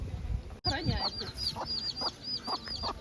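Several chickens cluck and chirp in short repeated calls close by, with a sharp knock near the start and soft murmuring voices underneath.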